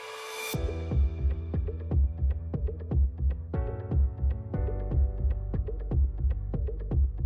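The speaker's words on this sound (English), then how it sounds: "It's like a heartbeat." Deep, heartbeat-like throbbing pulses repeat steadily and loudly, about two per second, each a low thump with a brief ringing tail, forming a musical build.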